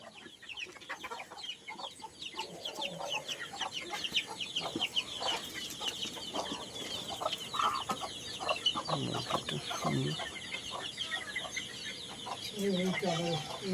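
Layer hens on a mixed poultry farm cluck and chatter in a busy, continuous flock, fairly faint and steady throughout, with a low background murmur.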